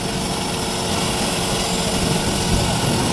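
A combine harvester engine roars loudly and steadily aboard a river ferry, a dense continuous drone with no break.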